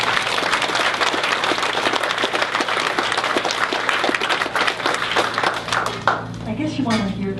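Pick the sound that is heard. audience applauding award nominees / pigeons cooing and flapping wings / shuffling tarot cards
audience applauding award nominees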